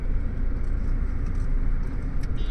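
Traffic on the Manali-Leh highway in Himachal Pradesh, with cars and other motor vehicles rumbling past in a steady, moderately loud wash of engine and road noise.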